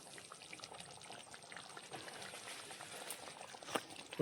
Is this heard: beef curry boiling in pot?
yes